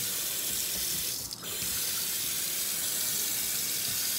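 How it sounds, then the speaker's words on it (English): Steady stream of water running from a washerless faucet into a sink during a plumbing inspection, a constant close hiss and splash with one brief dip midway. "Faucet up here."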